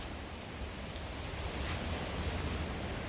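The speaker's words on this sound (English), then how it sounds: "Because of that darn wind, which I just showed you. Can you hear it behind me?" Strong wind gusting through a Melbourne garden, a steady broadband roar with slight swells, loud and continuous with no voices.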